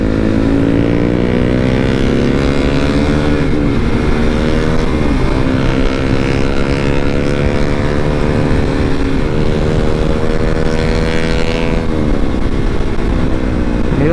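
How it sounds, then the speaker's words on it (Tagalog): A motorcycle with an open muffler rides along a road in Negros Occidental, its engine drone loud and steady with pitch rising and falling as it shifts, close up the whole time and with no talk. "Ayos yung open muffler nya."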